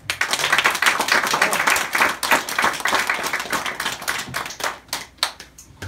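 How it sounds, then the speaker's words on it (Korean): A church congregation claps together during a sermon, a dense, sustained patter of many hands close by and fairly loud, thinning toward the end. "박수 한번 해주십시오."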